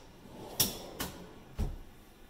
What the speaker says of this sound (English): Pull out drawers on this side.